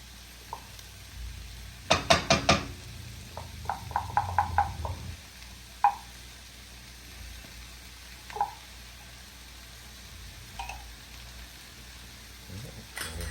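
Tomato paste being stirred into a goat neck stew with red pepper chunks and carrots in a pot, thick wet squelches and a quick burst of scraping strokes, then scattered softer stirs.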